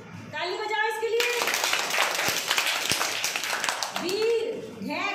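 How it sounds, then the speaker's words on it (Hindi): Schoolchildren in a classroom clap together for a classmate, a burst of dense, lively applause lasting several seconds, with a teacher's voice speaking just before and after. "ताली बजाओ इसके लिए"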